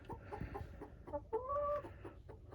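Hens clucking inside a chicken shed, a few soft close clucks followed by a drawn-out squawking call, fairly quiet with shuffling in the background.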